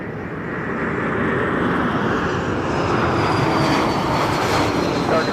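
Steady broadband jet roar of an Airbus A220 airliner landing at Toronto Pearson Airport, loud and continuous throughout, swelling slightly toward the end with no talk over it.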